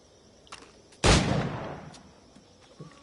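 A single loud gunshot in Assassin's Creed IV Black Flag during a shooting challenge, with a sharp crack that leaves a fading, reverberant tail, plus faint taps before and after.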